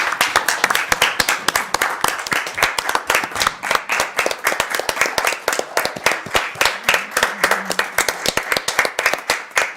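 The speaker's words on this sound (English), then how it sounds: "This is where we cheer." Steady applause fills a Montgomery County Board of Supervisors meeting, with many hands clapping in a dense, fairly close rhythm for the whole stretch before it thins slightly.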